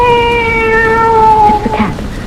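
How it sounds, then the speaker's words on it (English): A cat in an old-time radio drama gives one long, drawn-out meow, close and loud, that rises and wavers before breaking off. "It's the cat. She's back."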